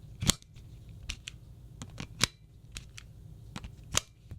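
Sharp clicks from a Nintendo Switch 2 controller being handled, about a dozen crisp snaps in an irregular rhythm, close and fairly quiet with no talking.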